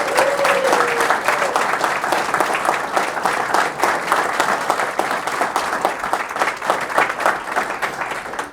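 An audience gives a sustained round of applause for guest Ralph Triggiano, many hands clapping in a loud, dense, continuous patter that carries on for several seconds.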